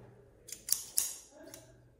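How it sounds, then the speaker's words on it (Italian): Multipurpose kitchen scissors are handled, giving three or four quick, crisp metallic snips and clicks close by in a quiet room, with no talking. "Forbici da cucina multiuso."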